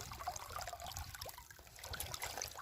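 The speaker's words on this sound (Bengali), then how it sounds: "মাছগুলো একটু ধুয়ে নিচ্ছে" Freshly caught river fish and shrimp are rinsed in river water, giving faint, steady trickling and splashing with soft sloshes, quiet and close with no talking.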